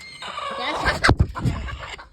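A broody hen clucks close by in a short burst of agitated calls lasting about two seconds, with a sharp knock or scuffle midway.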